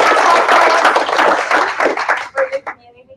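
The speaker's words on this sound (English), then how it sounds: "But please give a round of applause to all our panelists." An audience at a Bitcoin Cash versus Bitcoin debate applauds the panelists, a loud burst of clapping that thins out into a few scattered claps, with voices mixed in.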